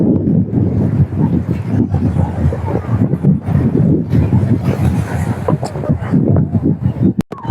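Racing boats speed across the water during a seaside boat race, a dense, steady roar of engines and rushing water mixed with strong wind buffeting the microphone, with a sharp brief knock near the end.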